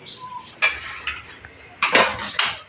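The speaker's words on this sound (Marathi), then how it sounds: "हे असं परतून घ्यायचं आहे हे परतलेलं छान परतून झाले" A utensil stirs a cardamom and sugar filling for ukadiche modak in a pan, giving a few loud metallic scrapes and clinks in irregular bursts, close and clear with no talk over them.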